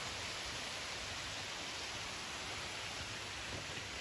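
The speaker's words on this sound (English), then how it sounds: "It's gonna stop raining." Heavy rain pours down over a creek during a flathead catfish fishing trip, a steady, dense hiss of drops that fills the whole clip without letting up.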